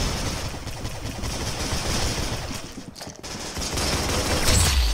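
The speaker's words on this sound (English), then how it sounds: "Gatling guns." Rapid, continuous Gatling gun fire in the Roblox game Arsenal, a dense unbroken mechanical rattle with a brief dip partway through, loud and close with no talking.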